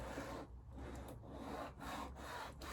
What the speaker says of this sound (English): you basically start with the sanding motion